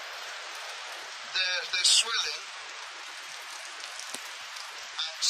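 Steady rain falling on a strawberry patch outdoors, a soft, even hiss throughout while someone speaks briefly over it.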